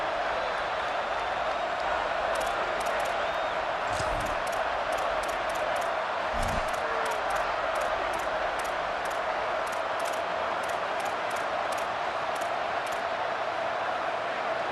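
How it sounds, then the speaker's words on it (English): A large college football stadium crowd roars continuously during a Kansas State versus Arkansas game, a dense wall of cheering and noise with scattered claps and whistles rising above it. "Man, this crowd really affecting the football game."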